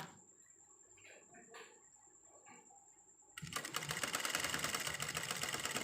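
A sewing machine runs fast and loud, stitching down a trouser seam near the crotch in a steady buzzing rattle after a few quiet clicks and handling sounds.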